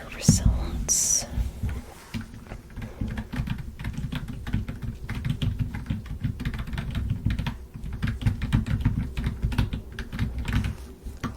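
Typing on a computer keyboard in a relaxing medical-exam roleplay setting, a steady, close stream of soft key clicks lasting the whole stretch, with quiet whispering over it.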